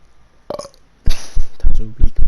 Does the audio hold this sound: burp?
yes